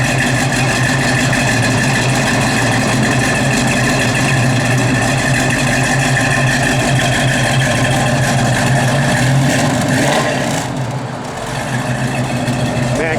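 A 1973 Dodge Challenger idles with a deep, steady exhaust rumble, loud and close, holding a constant note and dipping briefly near the end.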